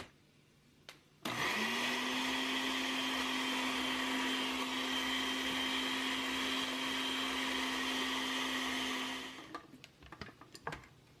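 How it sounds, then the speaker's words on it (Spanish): A blender purées chiles for a tomatillo sauce, starting abruptly with a loud, steady high whine and roar that holds for about eight seconds before cutting off, followed by a few small clatters. "Vamos a licuar los puros chiles y después agregamos los tomatillos y los jitomates."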